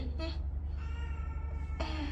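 A pet cat meows indoors, two short cries separated by a pause, heard over a steady low electrical hum.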